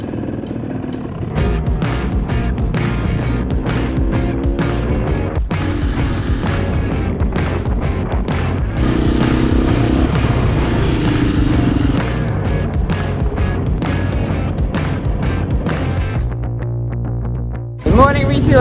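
Two-stroke trail motorcycles, 300cc, rev and pull away on a sunny Spanish mountain trail, engines loud and close with bursts of throttle and gear changes filling the whole stretch, fading slightly near the end.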